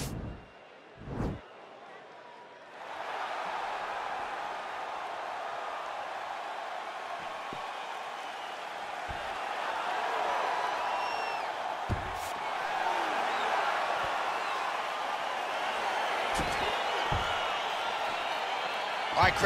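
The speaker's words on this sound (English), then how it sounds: "Crowd getting excited as this fight gets underway" An arena crowd in the UFC 4 video game swells into a steady excited roar as a fight between Bruce Lee and Manuwa begins, with a commentator talking over the noise and a few sharp thuds.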